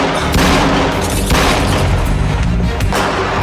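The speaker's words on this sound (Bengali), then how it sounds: "গুলির শব্দ ওদিক থেকে আসছে।" Dense, loud gunfire rings out in a dubbed Turkish drama scene, with repeated booming shots and bursts layered into a continuous battle din over about three seconds, and no voices.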